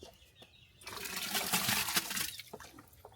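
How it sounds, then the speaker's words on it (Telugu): Ten kilograms of cow dung tipped into a drum of water while making jeevamrutham, giving a loud sloshing, splashing rush that swells for about a second and a half, then settles into faint trickles. "ఇప్పుడు మనం ఏం చేస్తామంటే ఈ 10 కేజీల ఆవు పేడను ఈ నీటిలో వేస్తాం."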